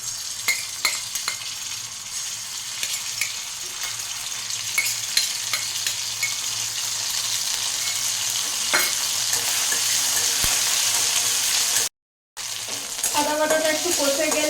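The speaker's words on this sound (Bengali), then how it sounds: "তেল গরম হয়ে গেছে, এবারে আমি আদা বাটাটা দিয়ে দেব।" Ginger paste fries in hot mustard or white oil in a wok for dal puri, giving a steady, close crackling sizzle with scattered pops and stirring scrapes, briefly cut out near the end.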